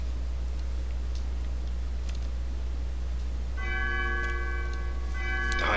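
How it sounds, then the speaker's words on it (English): High-pitched chiming bells in the video game Undertale enter partway through over a quiet low hum and faint ticking, ringing out bright and clear toward the end with no one talking. "The high pitch bells, though."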